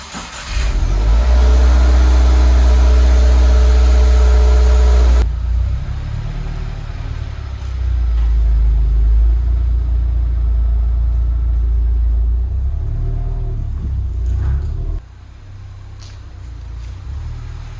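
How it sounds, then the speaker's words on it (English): A 2022 Subaru WRX with its mufflers deleted roars loudly at first, then settles into a deep, rumbling drone as it drives and turns around, with a few revs before the engine note drops. "let's get the car turned around and let's get it on ramp"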